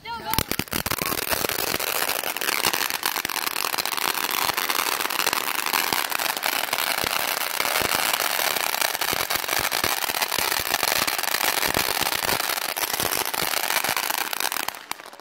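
Fireworks going off outdoors, a dense, loud run of crackling bursts and pops filling the whole stretch with barely a pause, ending abruptly near the end.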